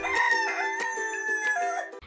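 A rooster crows in a long, strident cock-a-doodle-doo, loud and close, with clucking hens in the background.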